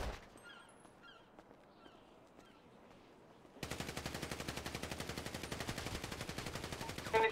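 Rapid automatic gunfire rings out in a GTA video game, a sustained burst of dense, evenly spaced shots that starts abruptly after a few seconds of quiet and runs loud and near to the end.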